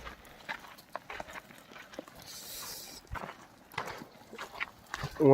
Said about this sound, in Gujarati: આ આપણી ભેંસો હમણાં જાય છે વાળે